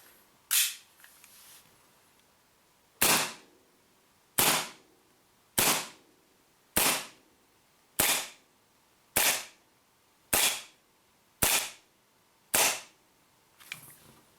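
Secutor Rudis 1911 BB air pistol firing over a chronograph: ten sharp, loud pops at a steady rhythm about one second apart, each a crisp crack with a short tail, in a quiet room with no talk.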